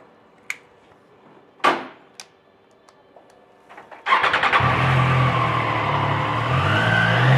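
A brand-new middleweight sport motorcycle is started: a few clicks and a short cranking burst, then the engine catches and settles into a steady, loud idle close by, with no talking.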